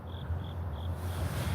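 A cricket chirps three times in quick, evenly spaced pulses over a low steady hum, then falls silent.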